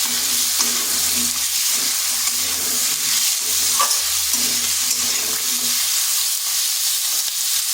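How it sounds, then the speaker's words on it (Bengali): Long-cut medium potatoes frying in a pan, a continuous close hissing sizzle with occasional faint stirring, steady and fairly loud, no voices. "আলুটাকে ঢাকা দিয়ে 2 থেকে 3 মিনিট একটু ভেজে নেব"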